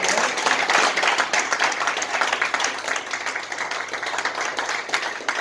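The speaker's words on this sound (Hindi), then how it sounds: "मैं अंकित जी के लिए चाहूंगा जोरदार तालियां।" Sustained, loud applause from an audience fills the room for motivational speaker Ankit Khandelwal, steady clapping throughout with no speech over it.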